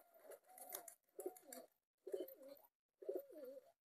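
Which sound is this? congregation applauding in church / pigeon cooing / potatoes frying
pigeon cooing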